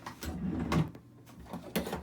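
A drawer is pulled open in a hobby workspace during a model kit build, with several soft wooden slides and knocks, quiet and close, spread unevenly across a couple of seconds.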